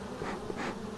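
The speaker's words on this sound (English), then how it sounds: "And if you do see a swarm of bees this time of year, make sure you call your local beekeeper." A swarm of honeybees clustered on a tree limb buzzes in a steady, dense drone that swells twice, close and fairly loud, with no talking.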